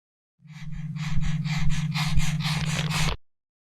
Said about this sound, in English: You can hear a faint breathing getting louder